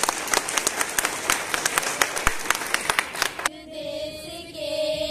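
A school Republic Day audience applauds with brisk, crowded clapping for several seconds, then it fades as a hum and music-like tones take over.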